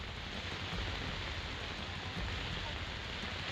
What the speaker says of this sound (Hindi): मुंबई साथ ही उसके आसपास के इलाकों में लगातार बारिश हो रही है